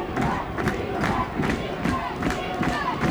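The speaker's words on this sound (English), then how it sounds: "CC chanting defense, the whole crowd." Crowd chanting "defense" in a rhythmic, repeated chant at a boys' varsity high school lacrosse championship game in Concord, Massachusetts, loud and steady throughout with crowd noise.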